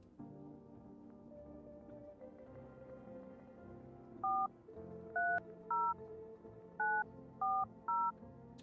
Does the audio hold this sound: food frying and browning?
no